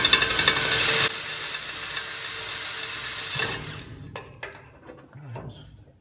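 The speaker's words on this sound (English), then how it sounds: "Let's drill this hole through first." A loud, high-pitched power drill whines steadily boring a hole through a vehicle crossmember, then cuts off, followed by scattered knocks and handling noises.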